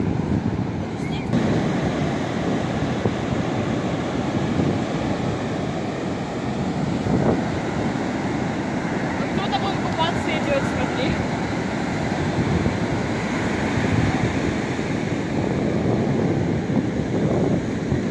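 Big sea waves surge and crash on the shore after a cyclone, a steady loud roar of surf mixed with wind buffeting the microphone throughout.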